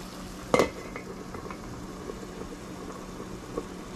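Fish and pork chop cooking on an iron griddle, a soft continuous sizzle with an early metallic clink of a utensil and a few faint taps, quiet and close.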